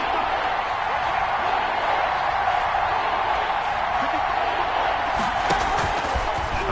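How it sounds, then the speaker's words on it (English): Football stadium crowd roaring steadily throughout, a dense, continuous wash of cheering and voices that swells slightly toward the end, with no distinct speaker standing out. "Crowd getting in it a bit already."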